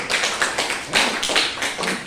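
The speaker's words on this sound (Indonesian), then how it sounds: "Tepuk tangan dulu" A classroom group gives a round of applause for discussion group 2's presentation in an Islamic economics class: steady, close handclapping that rises and falls in dense bursts for a couple of seconds.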